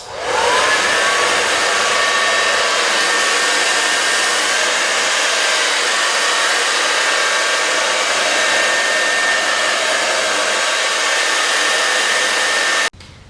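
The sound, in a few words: hair dryer drying hair set on Click n Curl rollers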